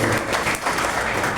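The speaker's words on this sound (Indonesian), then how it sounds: "Tepuk tangan untuk Daredevil." Crowd applause for a Daredevil cosplayer at a charity cosplay event, steady dense clapping close by with a murmur of voices mixed in, briefly dipping midway before resuming.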